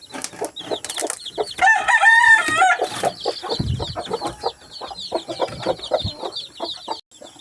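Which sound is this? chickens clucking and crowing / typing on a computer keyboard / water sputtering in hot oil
chickens clucking and crowing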